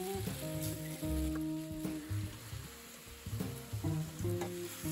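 Macaroni is tossed in a pan with melted butter and chunks of Roquefort cheese, giving a soft sizzle and stirring scrapes beneath sustained tonal background music.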